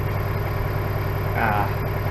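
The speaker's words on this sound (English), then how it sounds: "it's gonna take this tractor a little bit to warm up" A Challenger 675E tractor engine idles while warming up: a steady, low, droning rumble that holds even throughout, with a brief brighter swell near the middle.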